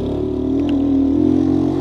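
A small delivery motorcycle's engine hums steadily up close, a continuous buzzing drone with a slight rise in intensity, no voices over it.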